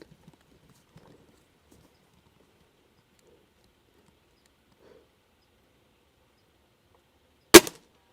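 A single sharp airgun shot fired through a chronograph at an airgun expo, one loud crack after several seconds of near silence.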